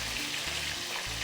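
Steady broadband sizzle with a low bubbling undertone, close and continuous, as spicy buffalo wing sauce boils hard in a hot pan; no voices.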